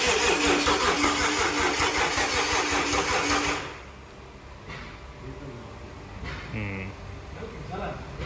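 BMW M57 diesel engine fitted in a Defender cranks loudly for a few seconds, then drops to a quieter rumble with clanks and a brief whine, heard close up with voices around.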